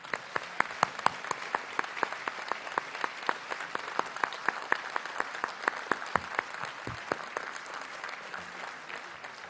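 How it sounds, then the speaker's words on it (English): Audience at a university convocation ceremony in a large hall claps loudly and continuously, crisp individual claps forming a sustained round of applause close by, with no speech over it. "I would also request family of Rahul and the professor he mentioned to raise for another round of applause."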